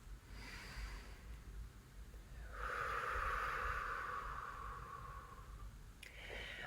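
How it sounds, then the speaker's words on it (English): A single deep, breathy inhale and exhale, close-miked and soft, rising after a quiet start and fading near the end, with no talking. "Let's take another nice deep breath here, please."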